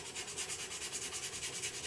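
Abrasive sheet used dry for sanding, a quick back-and-forth rasping scrub in rapid, even strokes, close up and moderately quiet.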